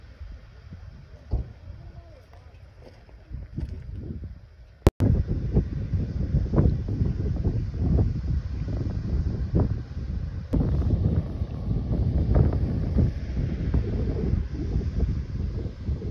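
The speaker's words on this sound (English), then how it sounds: "It's very windy today" Strong wind at Pyramid Rock on Phillip Island buffets the microphone in a constant, heavy rumble, growing louder after a sharp bump early on and continuing throughout.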